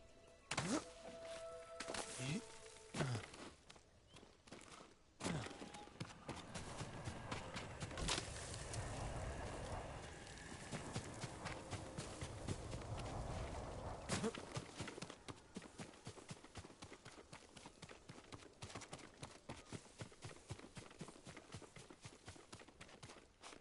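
Horse hooves clip-clop in a quick, steady rhythm, fairly close, over a busy background with occasional thuds and faint voices, in the video game Ghost of Tsushima.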